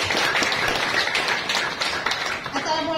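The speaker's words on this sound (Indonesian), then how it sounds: "Tepuk tangan sekali lagi buat MC dahsyat kita." An indoor audience gives a dense burst of applause for the MC, a continuous wash of many overlapping claps, with a voice rising at the very end.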